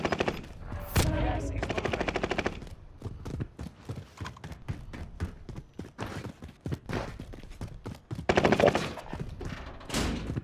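Rapid automatic gunfire from an online shooter video game crackles in dense bursts, with several loud shots and pauses between volleys, mixed with game effects and faint voices.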